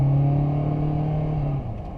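A 2017 Hyundai Sonata SE PZEV in sport mode hums with a steady, droning engine note heard from inside the cabin, holding a constant pitch before it eases slightly near the end.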